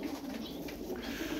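Pigeons coo in a flock of twelve show birds, a steady low burbling that runs throughout at close range with no one talking.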